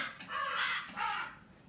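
Crows caw twice nearby, two harsh, drawn-out calls about half a second apart, clear and fairly loud against a quiet background.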